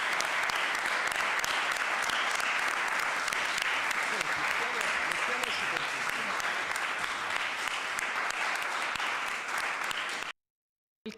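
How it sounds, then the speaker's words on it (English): Vigorous applause from a conference audience after a keynote lecture, steady and loud for about ten seconds, likely with voices mixed in, before cutting off into a brief silence. "I think we should give a big hug and clap to Professor Pöhlmann"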